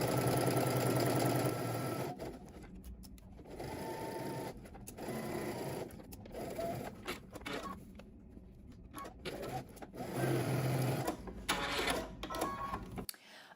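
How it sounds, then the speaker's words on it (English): A home sewing machine runs in bursts while stitching a dress seam with a five-eighths-inch allowance, its steady whirring hum starting and stopping several times with short pauses between runs. "Now we're going to head to the sewing machine and we're going to stitch using 5/8 of an inch seam allowance."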